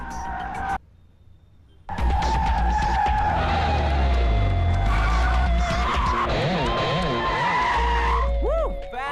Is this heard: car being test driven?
yes